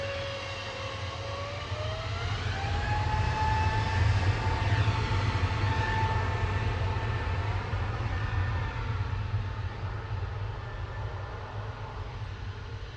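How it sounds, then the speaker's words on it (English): A Qatar Airways Boeing 777-300ER arrives from Doha at Manchester Airport with a steady, loud jet roar and a rising, sliding turbine whine that swells and then slowly fades. "A7BAW coming in from Doha now with Qatar flight 21, 777-300ER."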